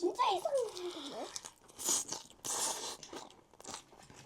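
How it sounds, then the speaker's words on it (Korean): Young radish kimchi is chewed with crisp, wet crunching bites close to the mic, a run of irregular crunches and smacking under a soft voice speaking between mouthfuls. "열무 진짜 맛있다. 아삭아삭."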